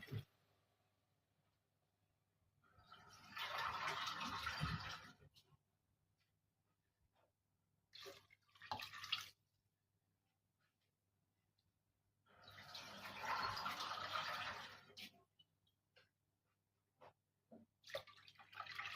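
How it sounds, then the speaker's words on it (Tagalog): Water is poured into a pot of chicken and fideos noodles in two separate gushing bursts, each a few seconds long, with a few short splashes and drips in between and little else around it. "Lagyan natin ng tubig."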